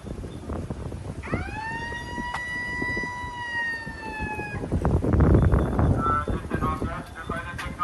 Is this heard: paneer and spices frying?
no